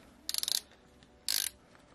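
A hand tool ratchets on a KTM 690 Enduro R motorcycle during a canister removal kit install: two quick bursts of close, crisp clicking separated by a second of near silence.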